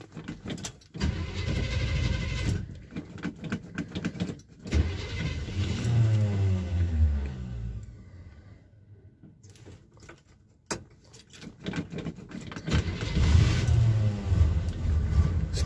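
A 1978 GMC C15 pickup truck cranks briefly on a cold morning, catches and fires up, then settles into a loud, steady rumbling idle with a surge in revs near the end; no one speaks.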